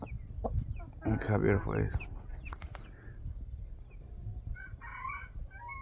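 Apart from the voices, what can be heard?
rooster crowing and clucking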